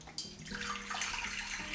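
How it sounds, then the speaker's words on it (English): Boiling water from a kettle pours into a pot of curry liquid, a steady close splashing gush that starts abruptly and keeps flowing evenly. "300 milliliters should come from a boiling hot kettle. I pour that in"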